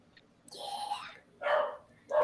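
A dog barks and yelps a few times in the background, each call drawn out and somewhat muffled, at moderate volume and picked up through a microphone.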